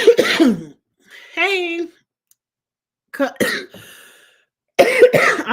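A person coughs in several short, harsh bursts separated by pauses, close to the microphone, along with some throat clearing, and a brief spoken word is heard.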